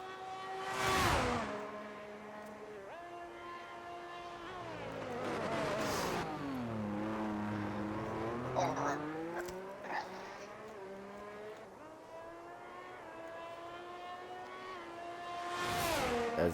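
Race cars in a racing video game roar onto the track, engines revving and shifting with rising and falling pitch as several cars pass close and loud in sequence, with faint commentary talk underneath.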